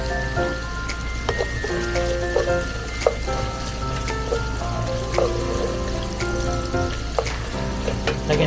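Onions frying in butter in a pan for chicken à la king, a steady crackling sizzle with scattered pops running throughout, close and fairly loud, with no talking.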